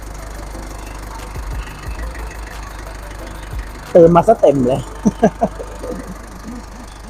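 A Mazda Fighter pickup engine idles with a steady low hum in the background. Someone speaks over it partway through.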